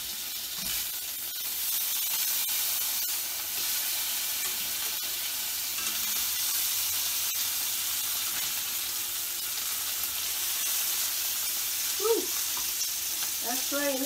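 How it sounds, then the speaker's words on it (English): Bacon fries in a pan with a steady, dense sizzle that runs unbroken throughout, close and even in level, with a couple of faint tonal squeaks near the end. "This bacon's about ready to flip."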